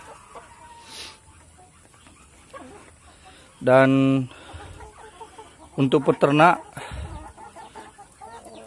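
Chickens cluck and squawk in short bursts while feeding on crickets at a poultry farm, the calls fairly close and interrupted by speech.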